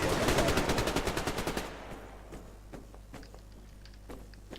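Rapid automatic gunfire in the Survarium first-person shooter plays as a quick, evenly spaced burst of shots, then fades into quieter footsteps and small clicks.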